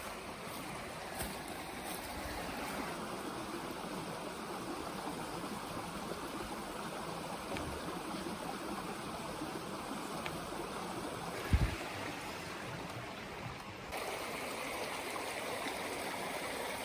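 A creek flows beside a creekside campsite in a steady, soft rush of water that holds unbroken throughout, with one brief knock near the end.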